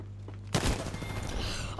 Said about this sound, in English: he had a faster firing weapon